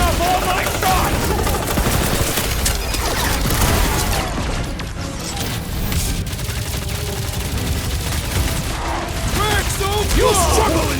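Gunfire in the video game Marvel's Guardians of the Galaxy: loud, rapid bursts of shots and mechanical clatter blended with combat effects, continuous across the clip, with character voices shouting over the action.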